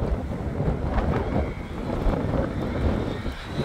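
Strong wind buffeting the microphone outdoors during a fast RC truggy bashing and speed run session, a steady loud low roar with gusty swells and no talk.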